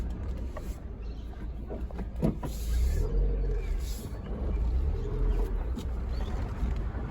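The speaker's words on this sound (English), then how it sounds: "I'll just drive a little bit on this waste ground so you can get an idea of what it's like to drive" A car driving slowly over rough waste ground, with a low rumbling engine and bumpy suspension knocks and rattles, heard from inside the vehicle, steady and moderately loud.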